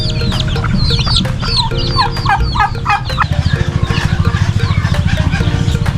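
Backyard chickens in a small home coop, with several hens clucking in repeated rising calls near the microphone and a steady low rumble and pulsing beneath them.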